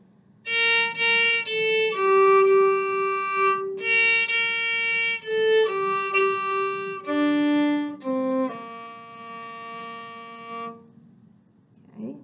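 A string orchestra plays a slow sequence of sustained notes from a song, starting at measure 11, each held a second or two with brief gaps, over a faint low hum.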